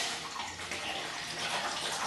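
Bottled water poured for boba pearls, a steady full-bodied splashing stream running continuously from start to end, close and moderately loud.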